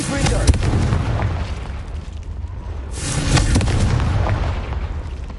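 A Confringo explosion spell goes off in Hogwarts Legacy, a dense booming blast that rumbles through the first seconds, then a second loud burst at about three seconds with crackling debris, sounding close and full.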